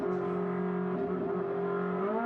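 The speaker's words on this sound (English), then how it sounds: "Certainly got the revs up in that car as he warms everything up" A race car engine in a Trofeo Pirelli race at Portimao revving steadily as it warms up, a loud sustained buzzing drone that holds a near-constant pitch and rises slightly at the end.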